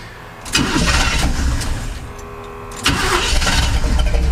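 Engine of a Chevrolet C10 truck with a running-rich fuel issue cranking and catching, then settling into a rough idle before a second surge of revving; loud and close, no speech.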